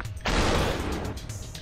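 In the video game Superhot, a gunshot and kill effect hits as one abrupt, loud noisy blast that sustains briefly before tapering off.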